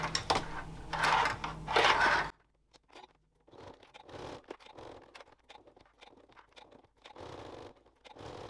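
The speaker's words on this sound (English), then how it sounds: "I'm using a Microtex needle in my machine. So we're going to stitch all the way around." A sewing machine fitted with a Microtex needle stitches around the edge of a fabric card wallet, a loud close burst of rapid stitching that stops abruptly, followed by quieter scattered handling taps and rustles.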